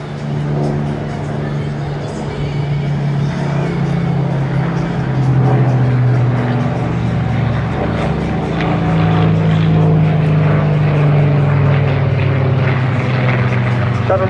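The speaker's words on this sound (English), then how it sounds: "The 19 carrying the Griffin engine, so that's a distinctive growl." A Supermarine Spitfire 19 with its Griffon engine flies past at an air show, a loud, steady propeller-engine growl that swells and holds for the whole pass without a break.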